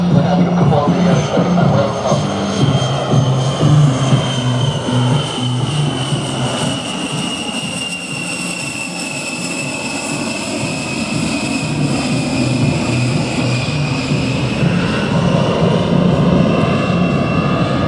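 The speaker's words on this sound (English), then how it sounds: "This slow speed pass will give you a good chance to see the A-10's high bypass engines and unique tail design." An A-10 jet with high-bypass engines makes a slow-speed pass at an airshow in Rome, Georgia, a loud continuous engine whine and roar with shifting tones that swells, eases mid-pass, then builds again, with some voices underneath.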